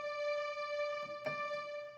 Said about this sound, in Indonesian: ini suara kombinasi antara grand piano dengan seruling yang tadi sudah